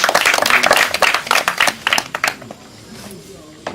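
Crowd applause bursts out loudly with dense overlapping claps, then thins to scattered claps and fades toward the end, with voices mixed in.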